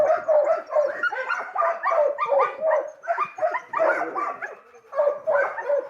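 A pack of sled dogs barking, yipping and whimpering together in continuous excited bursts, close by, while halted during dog sledding.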